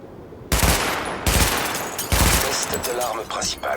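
Gunfire from a weapon test in the video game The Division comes in three loud rapid bursts at targets, each a dense rattling volley with short gaps between, ending in lighter trailing shots.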